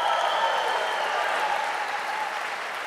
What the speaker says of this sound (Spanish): Aplaude al Rey de Gloria por esa bendición.